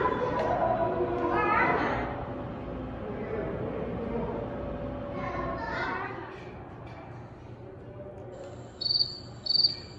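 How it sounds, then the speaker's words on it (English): A cricket chirps steadily at a science museum, a continuous high trill throughout, with children's voices and room noise murmuring faintly in the background. "Yep, that's a cricket."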